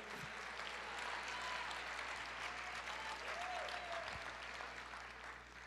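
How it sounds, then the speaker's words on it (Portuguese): Steady, even applause fills a church as a congregation claps for the Lord, a continuous wash of hands heard from within the room, with faint tones drifting underneath. "Você pode aplaudir o Senhor e dizer, eu creio"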